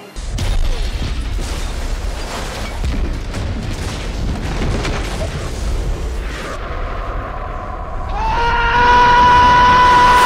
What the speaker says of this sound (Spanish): segundos antes de que explote la bomba del final